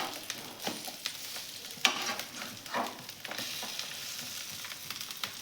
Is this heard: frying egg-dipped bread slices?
yes